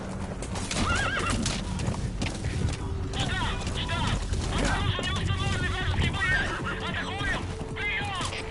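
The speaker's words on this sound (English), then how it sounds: "Go, horsey, go." In Metal Gear Solid V, a horse gallops with rapid, steady clip-clop hoofbeats while neighing and whinnying several times, with a person talking over the game sounds.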